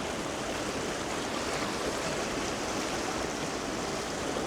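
Continuous rushing water at Talla Falls by Talla Reservoir on a rainy day, a dense, steady roar close and unbroken throughout.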